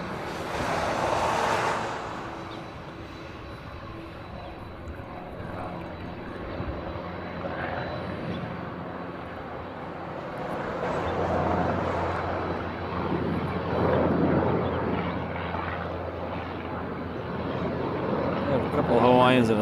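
Airbus A380 airliners fly at Honolulu airport, giving a long, steady jet-engine roar that swells and fades across the field with wind noise, while people talk over it.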